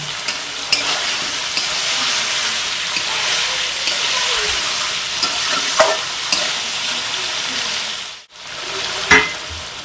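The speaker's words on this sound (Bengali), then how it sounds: "ভালো করে কষে নেব।" Mutton curry sizzles and fries in a pan while it is sautéed and stirred, a steady close crackle with occasional scrapes of the spoon.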